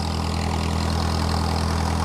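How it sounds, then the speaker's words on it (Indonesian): Engine of a water pump used for drawing water and irrigating a watermelon field, running at a steady idle with a constant low rumble and vibration, close and uninterrupted. "Ini mesin untuk pengisap airnya dan sekaligus pembagian air untuk penyiramannya"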